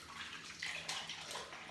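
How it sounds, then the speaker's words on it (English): Hot water runs steadily from a tap into a basin to soak a flannel before a first wet shave, a continuous hissing splash with no voices. "Let's use a flannel with some really hot water just to pop on the face."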